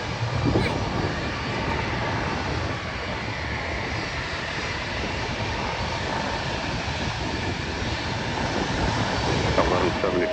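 An airliner on runway 12 right at Minneapolis rolls for takeoff with a steady, broad jet engine roar heard from a distance outdoors.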